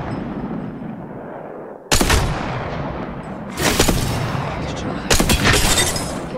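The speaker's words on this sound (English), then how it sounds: "Getting shot at." Gunfire in the Apex Legends battle royale: three loud broadband bursts of rapid shots roughly 1.5 s apart over constant battle noise, with a voice speaking beneath the shots.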